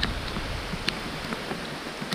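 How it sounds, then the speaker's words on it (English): Rain falls outdoors in a mountain setting during animal feeding: a steady, even hiss of drizzle with faint scattered drop ticks and no voices. "even when it's raining"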